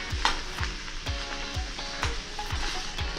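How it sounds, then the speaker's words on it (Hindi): Potato masala with spices roasting in a pan for dosa filling, a close sizzle broken by regular scraping stir strokes about twice a second. "और इसको 2 मिनट तक इसी तरीके से भून लेंगे"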